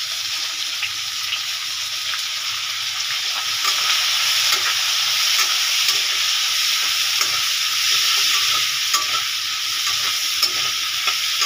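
Sliced onions frying for an egg curry in a home pot, a continuous bright sizzle with faint stirring scrapes running steadily throughout, fairly loud and close with no talk.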